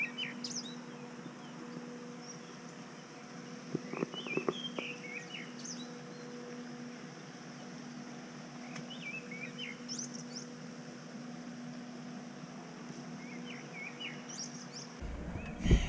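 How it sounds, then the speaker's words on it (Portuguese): A small wild bird sings outdoors in Cafayate, Argentina: faint, scattered chirps and short trills at a distance over a quiet hum, with no voices. "Gente, eu não sei que passarinho é esse, não, mas ele canta tão bonito."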